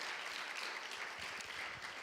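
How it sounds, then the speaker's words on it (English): Conference audience applauding at the close of a health and humanitarian logistics event, a dense, steady wash of clapping from many hands that fills the whole stretch without pause. "And now we'll all applaud, and I'll do it too."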